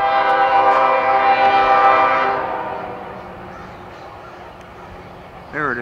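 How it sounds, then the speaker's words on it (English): A Norfolk Southern train horn blares loud and sustained with rich harmonic chords for about two seconds, then fades into rumbling rail noise, with a brief new sound rising near the end. "Wait a minute. I hear another horn."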